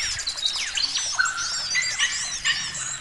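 Forest songbirds, including a cucak ijo, call in a busy overlapping chorus of bright whistles, chirps and sweeping trills, close and continuous with no talking.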